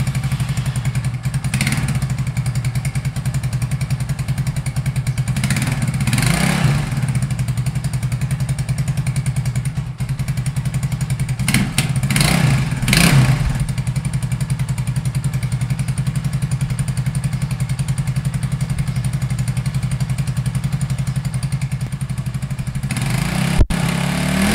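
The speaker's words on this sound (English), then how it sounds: "here's the real sound of what the exhaust is." A 2015 Big Boy GPR250RS motorcycle idles through its exhaust in a steady low rumble, with a few short revs breaking the even drone, close and loud, with no talking.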